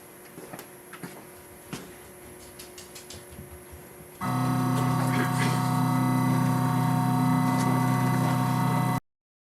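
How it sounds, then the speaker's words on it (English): A CNC machine under Mach3 control drives to its home positions, first a few scattered clicks and ticks, then a loud, steady motor whine that runs for several seconds before stopping abruptly. "watch the machine go to its home positions"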